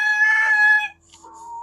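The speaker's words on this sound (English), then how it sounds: "because the roosters were crowing for them." Rooster crowing up close, one long strained call that breaks off, followed by softer clucking and calls in the background.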